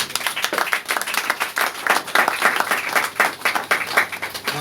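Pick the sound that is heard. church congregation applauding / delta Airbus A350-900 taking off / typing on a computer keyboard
church congregation applauding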